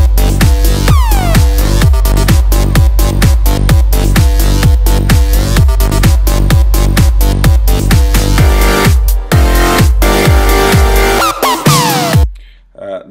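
A loud, dense, mastered electronic dance track pumps along with a steady four-on-the-floor kick and bright synths, then cuts out abruptly near the end.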